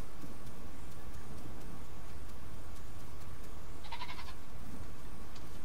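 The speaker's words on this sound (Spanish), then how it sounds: "Está bien que haya cabrillas." A goat bleats in the video game The Isle, a short burst of bleating around the middle over a steady outdoor ambience of game wind and low rumble, fairly faint and with no talking.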